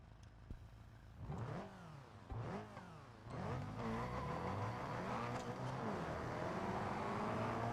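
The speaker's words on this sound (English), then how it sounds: "I was watching the rev limiter a bit too much there" A car engine in BeamNG revs up in a few rising surges, then holds against the rev limiter in a loud, buzzing, warbling drone that keeps going to the end.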